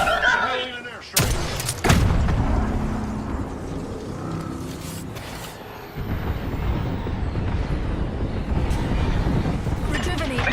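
Loud booming blasts and heavy rumbling in a futuristic shooter video game, with a burst around the one-second mark followed by sustained explosive rumble, overlaid by ongoing voices talking.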